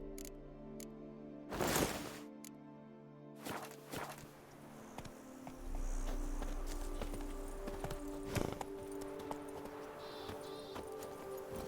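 A horse's hooves clip-clop at a walking pace while riding in Witcher 3, with steady close steps, a few louder thumps and scrapes, and a brief neigh amid low game ambience.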